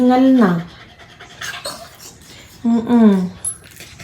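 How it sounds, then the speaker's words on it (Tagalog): A dog pants after a short run outside, with quick breathy huffs heard close by between bursts of a person's voice. "tumakbo lang yan saglit yan sa labas. O, tingnan mo. Hingal na."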